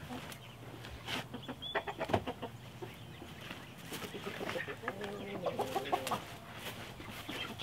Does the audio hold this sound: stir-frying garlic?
no